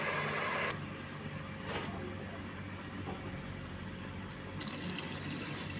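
Coconut milk poured into a pot of chicken biryani, giving a steady liquid pouring rush at moderate volume with a faint hum underneath.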